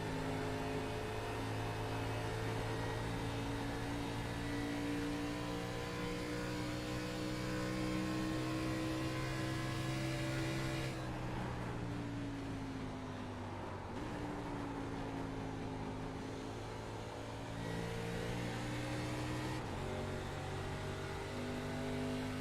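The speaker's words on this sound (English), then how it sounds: "we hear, folks, just like last week at Gateway, a little bit of shifting going on for these drivers" Racing kart engines at Twin Ring Motegi droning steadily in a whining, harmonic-rich tone, heard onboard the TRJ Karting number 12, with pitch rising and then dropping sharply at several gear shifts, loud and continuous throughout.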